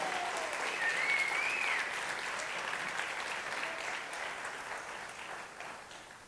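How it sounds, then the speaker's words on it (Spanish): A church congregation at a Spanish-language Sunday service applauds, a steady wash of many hands that holds for several seconds and slowly fades, with a faint whistle early on. "Dele un aplauso a los que están arriba"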